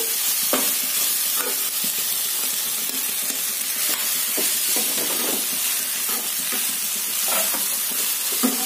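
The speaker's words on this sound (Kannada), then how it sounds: "ಸೊ ಈಗ ಸ್ವಲ್ಪ ನೋಡ್ಕೊಳ್ತಾ ಮಿಕ್ಸ್ ಮಾಡ್ಕೊಳ್ಳೋಣ" Washed poha being stirred in a frying pan for garlic poha: a steady close hiss and sizzle with scraping strokes of the spatula recurring every second or so.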